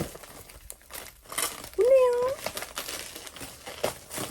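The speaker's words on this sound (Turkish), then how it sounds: "Ben bu kargoyu ilk defa açıyorum böyle." Plastic shipping packaging around a parcel of books crinkles and crunches in short bursts while someone talks over it.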